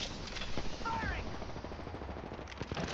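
Rapid automatic gunfire in the Apex Legends video game, bursts of sharp cracks, with a player talking over the shooting.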